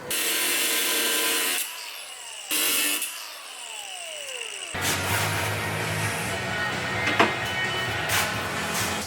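A die grinder cuts into the side of a plastic cooler during a tunnel-cut install on a Polaris AXYS snowmobile, a close, steady whine with rising and falling pitch, broken by brief pauses, then shifting into a rougher, grinding buzz.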